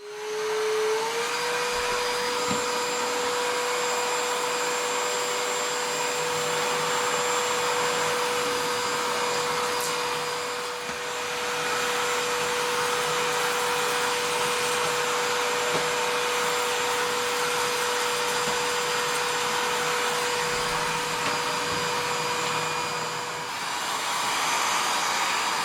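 Parkside 20V cordless shop vacuum on its stronger setting, a loud steady whine with a constant pitch that runs near and alone for about twenty-five seconds before cutting off near the end.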